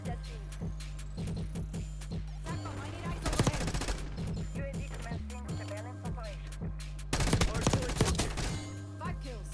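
Bursts of XM4 assault rifle fire in Black Ops 6 multiplayer, rapid full-auto volleys in two loud stretches over steady game sounds, with a player talking.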